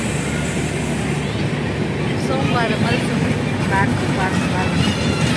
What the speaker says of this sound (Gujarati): ફાઇનલી ટ્રેન આવી ગઈ છે